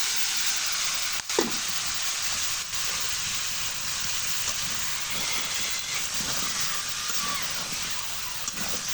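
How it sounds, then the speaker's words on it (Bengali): Bottle gourd pieces drop into a hot frying pan of oil and spices and sizzle steadily, a close, constant frying hiss with a few faint stirring knocks. "আমি এখন এই যে লাউগুলো দিয়ে দিচ্ছি।"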